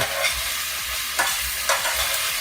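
Plain white mushrooms sizzling in hot oil in a pan for a creamy mushroom soup, a steady bright hiss broken by periodic scraping stirs, close and without talk.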